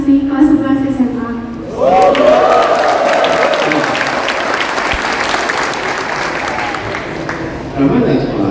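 A crowd at a student protest gathering applauds a high-school girl named Rahma with steady, dense clapping. Someone speaks over it at the start, and the clapping swells again near the end.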